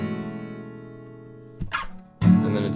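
A guitar chord played back down in the lower position, one sustained chord fading and then a fresh strum ringing out clearly, unaccompanied.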